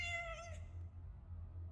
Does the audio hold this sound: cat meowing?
yes